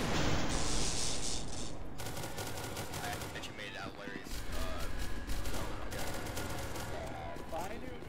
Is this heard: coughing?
no